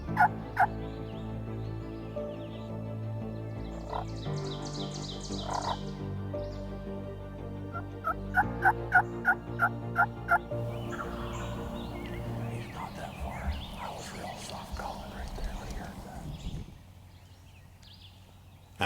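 A male wild turkey gobbler gobbles several times during a turkey hunt, rattling calls carrying from a moderate distance, with softer clucks and a quiet outdoor background between them.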